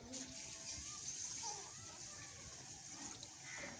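Water is poured into a pot holding rice for a lahori chicken biryani, a continuous gushing splash heard close, with faint voices in the background.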